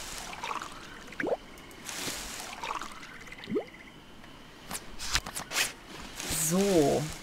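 Plants being watered in the island survival game Stranded Sails: two short, soft watery splashes a couple of seconds apart, followed by a brighter game chime, while someone talks over the faint background ambience.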